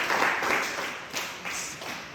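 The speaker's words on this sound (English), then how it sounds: "Let's give God a big hand of applause" A church congregation claps in praise after a sermon, a dense, close patter of hands that swells and eases over two seconds with no voices on top.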